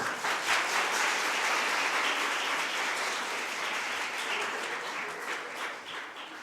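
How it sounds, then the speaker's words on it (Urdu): Schoolchildren at an Iqbal Day celebration in a governor's house hall clap together in a steady, fairly even wash of applause that fades slightly toward the end. "تو تم لوگ اپنے لیے خود ہی زوردار تالیاں بجاؤ"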